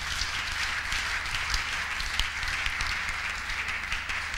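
An audience in a church applauds together in a steady, dense wash of clapping with a few sharper claps standing out, sustained evenly throughout.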